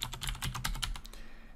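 Rapid typing on a computer keyboard while text is entered into a website editor, a quick run of close, crisp key clicks at steady volume with no talking.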